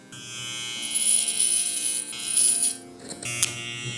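An electric hair clipper fitted with a 3 guard glides through hair on the side of a head during a haircut, giving a steady close buzz that swells and eases slightly as it moves.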